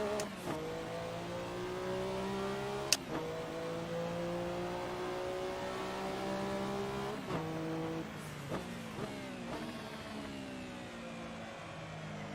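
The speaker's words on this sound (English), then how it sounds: "Sort of hit against the rev limiter there" Race car engine in a racing video game revving high and bouncing off the rev limiter, with steady harmonic engine tones that climb and drop through several gear changes and brief sharp clicks, loud and continuous with no talk.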